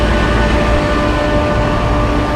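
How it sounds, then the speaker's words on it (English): A Trane Series R air conditioner with a big screw compressor runs loudly nearby, producing a dense, continuous mechanical roar with a steady hum. "Jeez, it's loud. Big old screw compressor."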